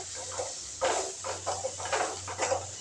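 Curry leaves and coriander sautéing in a pan with chilli powder and turmeric, giving a steady sizzling hiss with repeated bursts of crackle as the pan is stirred, close and moderately loud.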